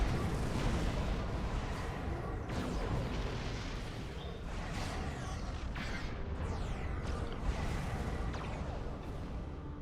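Torpedo spread fired from a Fleet Dreadnought Cruiser in the space game Star Trek Online, heard as a dense, continuous barrage of booming launches and explosive whooshes running steadily throughout with no pauses.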